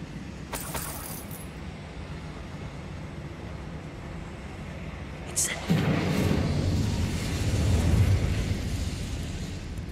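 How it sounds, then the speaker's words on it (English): A single explosion in the wizarding game Hogwarts Legacy bursts midway, followed by a rumbling roar that swells and lingers under low ambient noise, with a faint earlier clatter. "Explosion."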